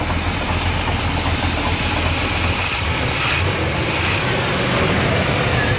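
A carbureted 350 engine with a performance cam idles with a loud, steady, continuous rumble from close by throughout.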